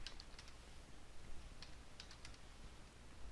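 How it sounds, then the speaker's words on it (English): Fingers tap out quick, irregular bursts of keystrokes on a computer keyboard, faint and close, with no voices. "let's try to type it correctly here"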